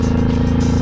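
Honda VTX 1800 power cruiser riding at speed, a loud, steady low engine drone with even exhaust pulsing and no speech.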